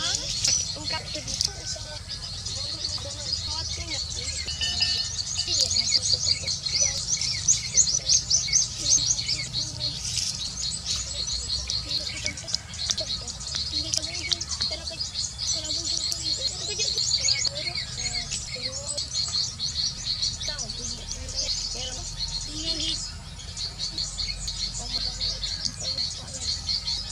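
A large flock of birds arriving during Ramadan, a dense, continuous chorus of high chirps and tweets that carries on steadily throughout, with faint voices in the background.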